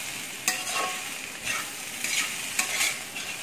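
Ground sesame powder is stirred into a beetroot curry with ginger and onion in a pan. Several close scraping strokes over a faint sizzling hiss, with no voices.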